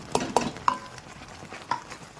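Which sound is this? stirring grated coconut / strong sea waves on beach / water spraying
stirring grated coconut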